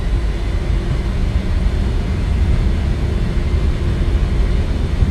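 Jet engines on an E-Jet airliner in Microsoft Flight Simulator 2024 drone with a steady, loud, low roar heard from the cockpit, holding an even level for the whole stretch with no talk.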